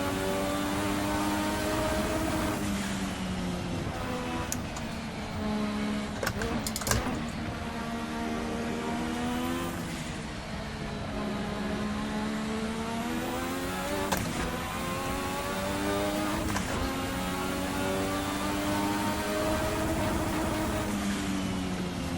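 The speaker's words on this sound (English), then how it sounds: "I'm sure I can hear a lot more turbo noises now that I've turned it up" Turbocharged V6 of a 1986 Formula RSS race car in Assetto Corsa, revving hard through upshifts with repeated rising pitch sweeps and sharp turbo and shift transients, loud and continuous.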